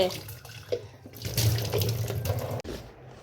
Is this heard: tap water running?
yes